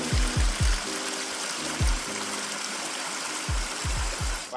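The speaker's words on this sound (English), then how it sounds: "Here right across the river." A river flowing past a campsite at Cougar Flat gives a steady, full rushing hiss with no talk, broken now and then by soft low thumps.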